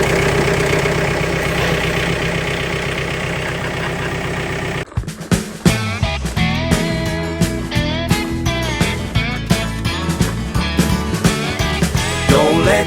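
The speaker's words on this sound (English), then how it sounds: "I'm about to start working on the tractor" A tractor engine idles with a steady, droning hum for the first few seconds, then gives way to a louder rhythmic, pulsing pattern.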